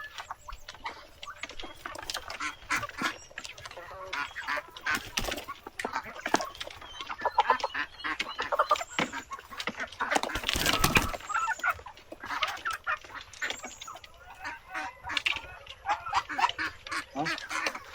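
A flock of backyard chickens and ducks at a rural countryside home, busy overlapping clucks and quacks close by, with a burst of flapping wings midway and people talking now and then.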